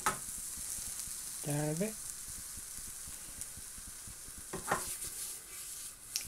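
A homemade beef burger sizzles in a new budget frying pan from BM Stores, giving a steady, close crackling fry throughout, with a short spoken remark partway through.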